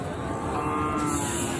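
Young Sahiwal calves at a Bangladeshi cattle market, a loud drawn-out moo close by over a busy market hubbub.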